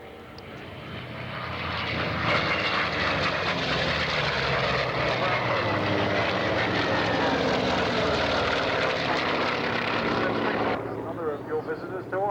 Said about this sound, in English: Look at the flap area on the Avenger as she comes in from your left.